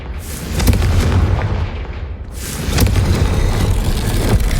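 A Confringo blast spell explodes in the video game Hogwarts Legacy, a loud booming burst followed by a second heavy blast, both rumbling and close.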